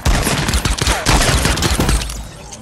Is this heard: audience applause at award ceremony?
no